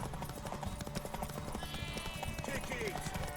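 Rhythmic clip-clop of horse hooves in The Witcher 3 video game, mixed with game ambience and voices, with a brief whinny-like tone near the end, fairly dense and continuous.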